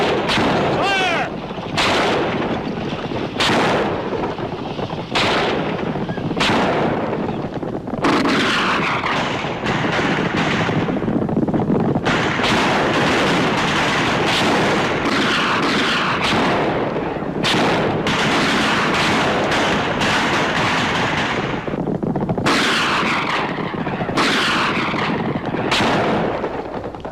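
A western-movie volley of gunfire: repeated sharp, loud shots and bursts crack out in quick clusters, separated by short pauses, over about half a minute.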